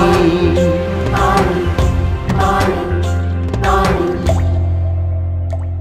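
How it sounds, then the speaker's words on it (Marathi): Drops of water fall one after another in a slow, regular rhythm over a steady musical backdrop. "थेंब थेंब हे पाणी"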